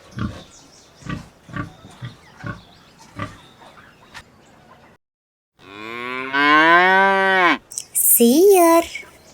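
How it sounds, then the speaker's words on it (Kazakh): Short, choppy grunting sounds come first, then after a brief silence a cow gives a long, loud, close moo, followed by a second, shorter moo that rises in pitch. "Сиыр."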